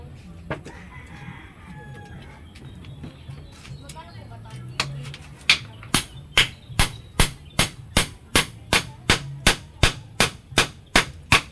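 Nails are hammered into an old wooden board, with loud, close, evenly spaced blows in a steady run of about fifteen strikes, preceded by people talking and chickens clucking nearby.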